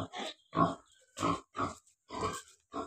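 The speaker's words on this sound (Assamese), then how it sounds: "আপোনালোকে ভিতৰত গাহৰি পোৱালি প্ৰেগনেণ্ট গাহৰি দেখা পাইছে।" Pigs on a farm with piglets and pregnant sows, a series of six short, close grunts spaced roughly half a second apart with quiet gaps between.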